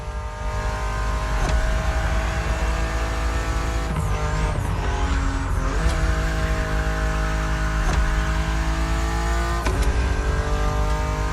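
A BMW Z4 E89 coupe cabriolet drives in The Crew Motorfest. Its engine drones steadily and loudly throughout, with gear shifts and brief revving swells, and no one speaks.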